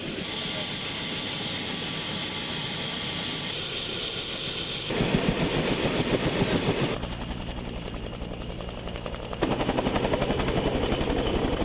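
A helicopter flying nearby during a circumcision celebration at a stadium, its loud steady rotor thrum and turbine whine filling the whole stretch, shifting in tone as it passes, with no talk.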